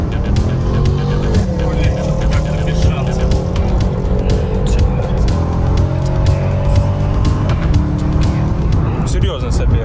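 Car engines roar and rev continuously at close range in a race between a Subaru WRX STI, Nissan GT-R, BMW M5 and Mercedes 63 AMG, with steady, loud mechanical drone throughout and no pauses.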